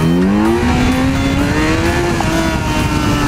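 Kawasaki Z900 roadster motorcycle being ridden: a loud, close engine whine rising in pitch as it accelerates, then holding a steady drone under constant wind rush, with no talk.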